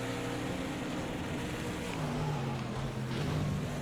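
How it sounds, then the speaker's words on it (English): A damaged race car engine in the video game Project Cars 2 drones steadily with a rough, uneven tone, shifting pitch slightly, set against a low background hum. "sounds a little bit on the sick side, so might be having some damage with the engine"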